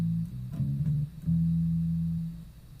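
A low instrumental note is played pianissimo: a soft, sustained tone with a brief change in the middle, then a long, steady hold that fades out near the end.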